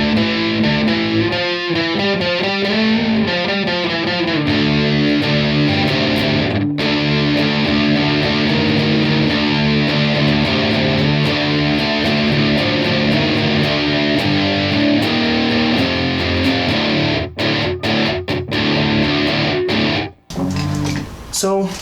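An electric guitar played through distortion and a Sondery chorus pedal, a loud, sustained fuzzy tone with strummed chords and shimmering modulation that carries on continuously, briefly cutting out near the end.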